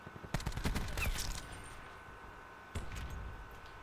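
Rampart rifle fire in the video game Black Ops 4, a quick burst of rapid shots followed by a quieter stretch and another short volley, fairly close within a steady game ambience.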